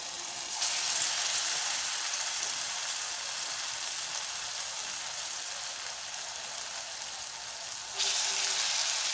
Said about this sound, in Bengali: তেলটা আমার গরম হয়ে গেছে। বড়াগুলি এবার আমি ছেড়ে দিলাম।